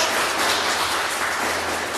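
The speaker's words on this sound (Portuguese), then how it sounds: "dê para Jesus uma salva de palmas bem forte" A church congregation claps together in steady, dense applause that fills the space evenly at close range, with no voices rising above it.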